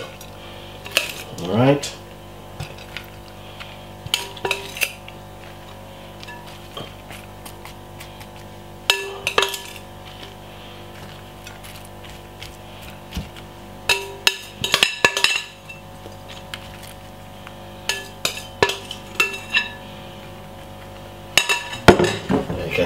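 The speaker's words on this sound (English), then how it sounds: "So transfer more rice salad into a serving bowl." Rice salad of spinach and rice is spooned into a serving bowl, with sporadic clinks and scrapes of utensils against the dish, in short bursts spread across the stretch, and a voice speaks briefly once.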